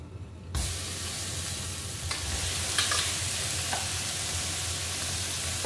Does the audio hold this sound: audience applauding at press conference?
no